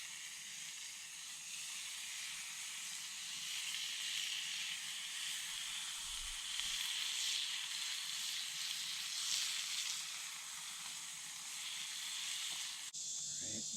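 Scrambled eggs and bacon frying for breakfast at an ATV campsite in a forest, a steady faint sizzle and hiss running throughout with a low outdoor rumble beneath and a brief soft knock near the end.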